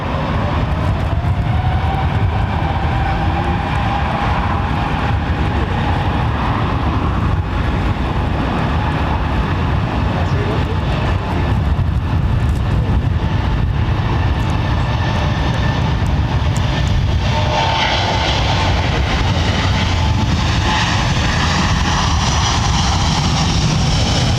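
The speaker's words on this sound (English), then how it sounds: "This is a Trent 7000 engine." A Rolls-Royce Trent 7000 jet engine at London Heathrow Airport produces a sustained, powerful roar with a tonal whine layered on top, staying loud and steady from start to finish.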